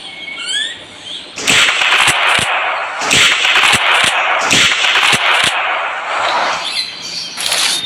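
Rifle shots fired at a bear in a hunting simulator game crack out in a rapid series of about ten sharp bangs over a dense wash of forest ambience and bird chirps.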